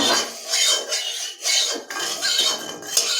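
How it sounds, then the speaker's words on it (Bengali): A spatula scrapes and stirs food around a kadai (wok) at close range, making a series of rough rasping strokes in an uneven back-and-forth rhythm, with no talking. "আমি একটু কড়াটা এরম এরম করে নাড়িয়ে দিই"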